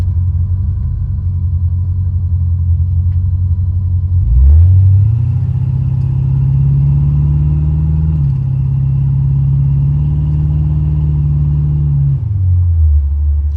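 A 1986 Buick Regal with a 455 big block V8 and Holley EFI rumbles at idle, then revs up as it pulls away, holding a steady deep drone before the revs drop again.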